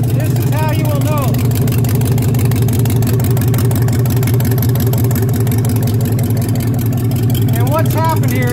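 A car whose catalytic converters have been sawn off starts up and runs with a loud, steady, rough low roar throughout, close by, while people talk over it.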